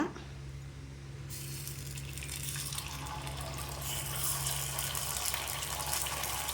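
Liquid pours steadily into a container at home, a continuous close gushing and splashing with a low hum underneath, swelling slightly as it fills.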